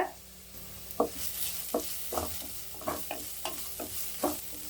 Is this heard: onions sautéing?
yes